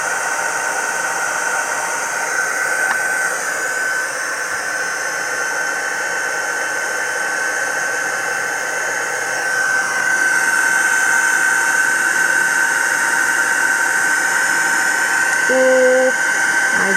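A heat tool blows steadily while heat embossing a layer of embossing paste, a continuous close whooshing hiss with a faint whine that grows slightly louder midway, joined by a brief soft voice near the end.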